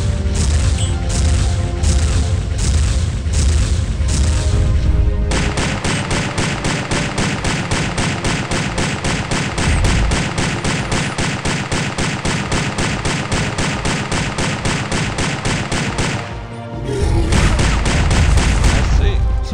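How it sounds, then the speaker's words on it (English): Artillery and gunfire in an Xbox war game, a dense, loud, continuous barrage of rapid rhythmic bangs and booms with heavy low rumble, briefly dipping near the end before resuming. "Oh, hello there, artillery."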